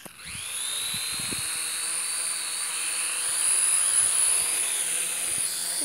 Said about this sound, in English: The drone literally almost sliced off my head.